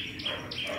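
Red-whiskered bulbul giving two quick bright chirps, close and clear over a soft background hiss.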